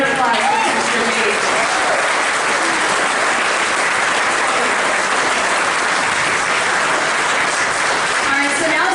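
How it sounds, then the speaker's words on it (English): A dense, steady round of audience applause at a county State of the County address, loud and continuous for the whole stretch with scattered voices in the crowd. "Everybody, a round of applause for Mr. Meade."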